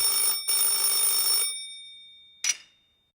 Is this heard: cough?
no